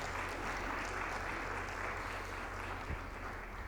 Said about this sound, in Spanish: Denme un aplauso a Abdiel